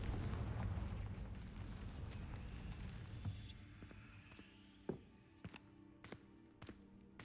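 A faint, rumbling blast from the Confringo explosive spell in the Hogwarts Legacy video game fades out over several seconds, followed by a few sharp, quiet clicks and taps.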